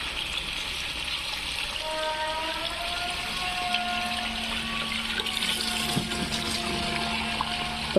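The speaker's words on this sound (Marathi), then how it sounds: "तर परत पाणी असं टाकून घ्यावं लागतं" A steady, continuous rush of water pours onto potted garden plants such as chilli and flowering shrubs, a broad hissing flow close by with faint tonal whines running through it and no talk.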